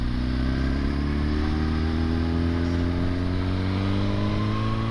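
A 2015 Suzuki GSX-R 1000 motorcycle engine drones steadily while being ridden, a loud, close, continuous mid-range hum with the pitch creeping gradually upward.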